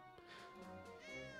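Cats meowing in the 60 Parsecs video game: a soft, drawn-out meow followed by a second rising meow, faint and close together, with no talk over them.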